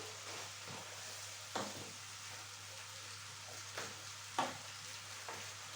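Steady low sizzling of food frying in a pan, with a few soft scraping stirs at intervals, close and fairly quiet.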